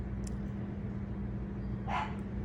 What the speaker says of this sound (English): I was hoping that dog would stop barking by